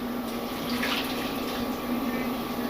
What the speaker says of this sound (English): We're going to put about a half to 3/4 cup of water.